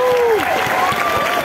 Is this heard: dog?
no